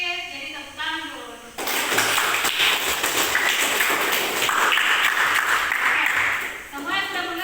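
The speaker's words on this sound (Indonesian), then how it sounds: "Jadi tepuk tangan dulu" A classroom of students bursts into loud, sustained clapping for several seconds, with a teacher's voice speaking briefly before and after the applause.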